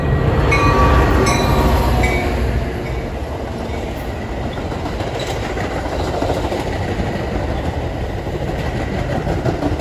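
An outbound Metra commuter train led by an F40PHM diesel rolls by on a Chicago-area BNSF line, loud at first, then a continuous rushing rumble with rhythmic wheel clatter over the rails.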